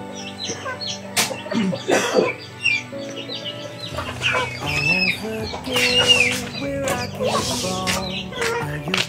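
A hen clucks loudly and repeatedly after laying an egg, with sharp cackles and squawks in irregular bursts close by, over a backdrop of other farm fowl and chirping birds.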